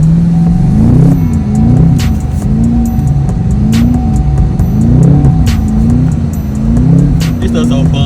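A tuned Chevrolet Camaro SS sliding in the snow, its engine droning loud and close with a pitch that rises and falls in repeated waves as the throttle is worked, with faint clicks over the top.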